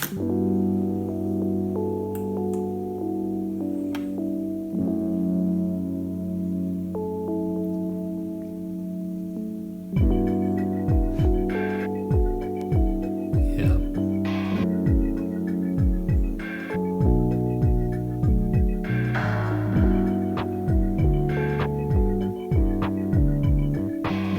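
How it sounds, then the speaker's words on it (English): Mellow, lo-fi chill hop music: soft sustained chords open the track, then a relaxed beat with plucky bass notes joins partway through. "The first one was very chill, like a lo-fi chill hop sound kind of."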